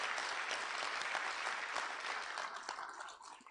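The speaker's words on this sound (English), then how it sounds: "I would like everybody here just to give a round of applause for this conference." Applause from a conference audience gathered in Uganda, a dense and steady wash of many hands clapping that carries on throughout and thins slightly toward the end.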